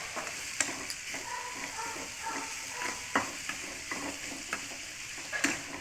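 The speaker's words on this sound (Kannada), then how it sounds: "ಫ್ರೈ ಮಾಡ್ಕೊಳ್ಳಿ." Mushrooms fry in a little oil in a pan for a Kannada-style curry, giving a steady close sizzle broken by repeated scraping stirs of a spatula throughout, with no talking.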